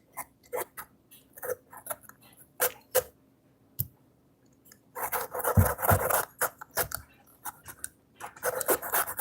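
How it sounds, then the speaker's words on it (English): Potato being peeled with a handheld potato peeler, heard as short scraping rasps, sparse and intermittent at first, then a denser run of loud, close strokes in quick succession. "I'm going to peel it with a potato peeler"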